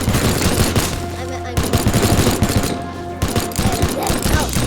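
Rapid machine gun fire in the video game Teardown, dense bursts of overlapping shots repeating loudly and continuously over several seconds with brief gaps, close and harsh.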